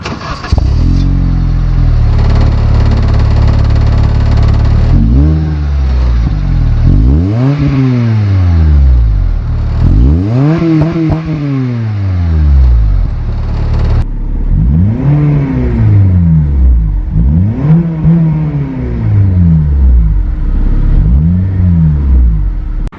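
A modified Acura RSX engine revs loudly and close up through a series of throttle blips, each climbing and falling back to idle, the earlier ones longer and the later ones quicker and more closely spaced.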